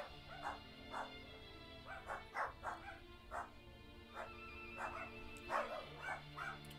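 A dog barks and yips in the background of a home setting, repeated short bursts spread across the stretch, faint under a steady room hum.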